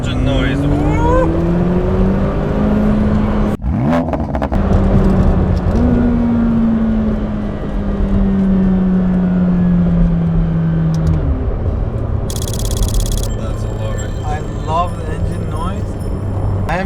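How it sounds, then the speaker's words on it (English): A McLaren 720S sports car engine revs and accelerates on a road, its pitch climbing and dropping through gear changes, loud and close, with a brief sharp knock partway through and voices talking over it. "So how about engine noise?"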